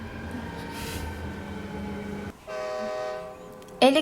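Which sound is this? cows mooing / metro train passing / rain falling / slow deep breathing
metro train passing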